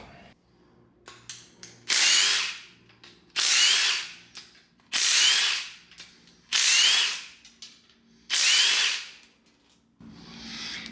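A power tool loosens the cylinder head bolts on a 5.3L LMF V8 engine teardown: five loud, close bursts of whirring impact-style driving, each about a second long, separated by quieter clicks and handling noises.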